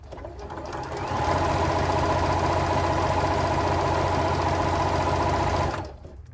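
Juki HZL sewing machine running stitches after a main gear replacement, a steady, fast mechanical whir that speeds up, holds evenly for several seconds, then stops.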